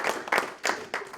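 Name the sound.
congregation applause in church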